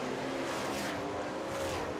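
Race cars in a NASCAR Canada Series round on the Trois-Rivières street circuit in Quebec roar past, a loud continuous engine drone that swells and fades as cars go by.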